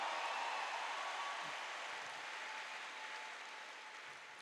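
A church congregation applauding during a Catholic Mass, heard as a steady, soft wash of many hands clapping throughout, with no talking over it.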